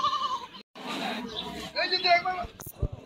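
Young goats and mother goats bleat in short, wavering calls at a busy rural livestock market in Bangladesh, heard close over nearby people talking and background crowd chatter.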